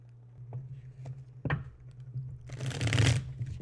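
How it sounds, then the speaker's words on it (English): Tarot cards being shuffled close by: light taps and flicks, then a fuller riffling burst near the end, soft and intimate against a quiet low hum. "And I'm shuffling."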